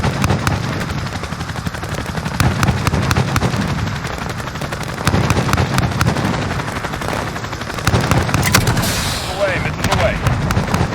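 A 30 mm aircraft cannon gun run in Call of Duty: Modern Warfare 2019 gives a dense, loud, sustained roar of rapid-fire bursts and rumbling impacts, with radio-style voices talking over the gunfire.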